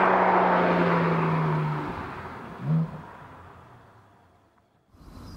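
Porsche 718 Spyder engine passing by, a loud whine that falls in pitch as the car recedes into the distance, followed by a short blip and quiet.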